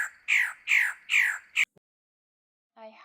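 A magnificent bird of paradise gives four loud, harsh squawking calls in quick succession, then falls silent before a softer, buzzy note at the end.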